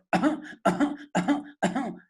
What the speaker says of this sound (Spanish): La tos que va a presentar el paciente es como de coqueluche, accesos de tos